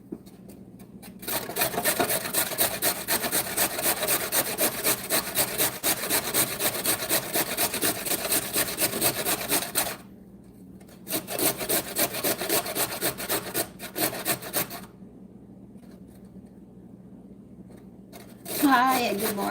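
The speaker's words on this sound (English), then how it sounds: "Now we're going to grate 1 carrot." Steady rasping scrape of one carrot being grated in a home kitchen, in long continuous bursts with a short pause midway and quieter stretches near the end.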